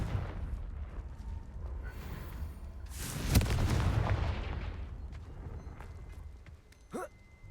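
A Confringo wand spell in Hogwarts Legacy fires off as a sharp blast with a broad crackling burst that swells and fades over a second or two, over a low rumbling game background, followed by a brief whooshing zip near the end.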